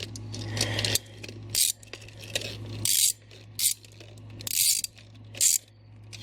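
Ratchet wrench tightening a clutch bolt during a Tilton clutch install, several short bursts of rapid clicking separated by brief pauses, close and fairly quiet.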